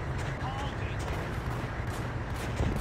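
Pistol shots in the Max Payne video game, sharp cracks over a dense, noisy game soundscape, brief and close, with a heavier burst near the end.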